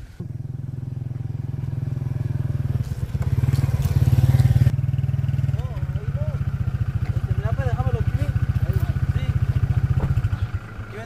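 A motorcycle engine rumbles and revs as it pulls up close, its steady putter continuing while voices chatter in the background.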